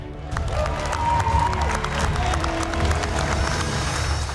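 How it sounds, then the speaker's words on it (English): Former MasterChef Canada contestants cheer and applaud in a studio kitchen, a loud, steady wash of clapping and whoops that holds for several seconds with no talk over it. "Tonight, those worthy opponents are back to lend their support and cheer you on."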